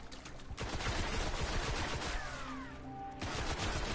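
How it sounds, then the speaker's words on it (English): Gunfire in the Destiny beta, with rapid bursts of shots sounding like a fusillade, moderately close over a background rumble, and a brief gap in the middle before the firing resumes, with no talking. "I'm trying to shoot my way out."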